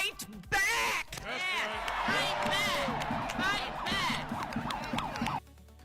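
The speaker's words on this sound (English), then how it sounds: "Somebody's got a police siren that they hit" A police siren wails in rising and falling sweeps at an outdoor political rally, moderately loud over crowd noise and chanting voices for about five seconds before cutting off.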